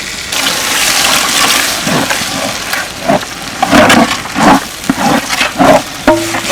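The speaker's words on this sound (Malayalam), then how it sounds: "അരപ്പ് വെള്ളം ഒഴിച്ചു കൊടുക്കാം." Water is poured into ground masala in a clay pot while egg curry is being made. The gushing, splashing pour comes close and loud in uneven surges.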